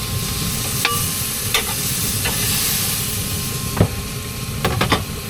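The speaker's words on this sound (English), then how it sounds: "Alright, so we got that rolling, and steak's almost done." Steak frying in a pan at a chilly-weather campsite in Butte La Rose, Louisiana: a loud, steady close sizzle throughout, with a few brief clinks and scrapes on top.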